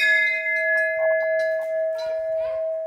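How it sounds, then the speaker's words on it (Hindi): Temple bell rung at an old Sati Mata shrine: a clear sustained metallic ring with steady tones, a few light strikes layered in, close by with faint voices in the background. "बजा तू घंटी"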